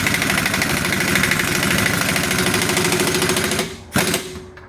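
A rapid, machine-like hammering rattles steadily against the frame of a Casita trailer for nearly four seconds, then cuts off with one sharp knock and trails into a low hum.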